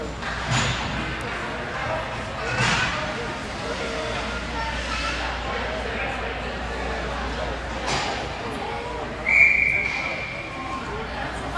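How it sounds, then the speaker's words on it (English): A referee's whistle sounds at a youth U15 ice hockey game, a single short, fairly faint blast cutting through arena crowd noise and play-by-play commentary. "there's going to be a whistle here as the net once again has come off"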